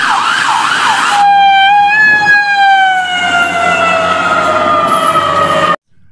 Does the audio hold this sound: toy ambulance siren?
yes